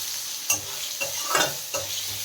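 Mango pieces and lentils fry in a pan, a close steady sizzle broken by three or four scraping stirs of a spoon at regular intervals, with no voices.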